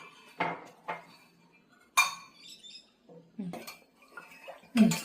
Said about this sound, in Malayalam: ഇനി സ്റ്റർ ചെയ്യ്.